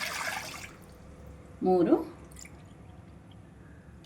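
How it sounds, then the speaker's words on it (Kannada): Water pours into a pan or wok at the start of making chakli dough, a short bright splashing rush that is followed by a brief spoken word and quiet kitchen background. "ಇದರಲ್ಲಿ 4 ಬೌಲ್ ನೀರು ಹಾಕ್ತಾಯಿದ್ದೀನಪ್ಪ"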